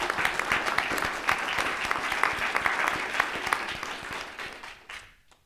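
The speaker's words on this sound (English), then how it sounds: "I just want to give a round of applause to Mr. Mark" Audience at a school board meeting giving a round of applause, many hands clapping in a brisk, uneven patter that holds steady, then thins and fades out to quiet at the very end.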